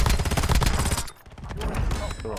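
Video game gunfire crackles in rapid bursts through the first second, drops off briefly, then resumes as scattered, slightly quieter shots, all close and loud with a voice talking over the action.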